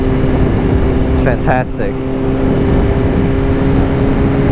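A Suzuki Gixxer motorcycle is ridden with a steady engine drone and heavy wind rush, and a rider speaks briefly over it.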